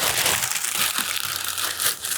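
Packing paper is crumpled and stuffed around a shipping box, producing loud, close crinkling and crushing bursts in quick irregular succession.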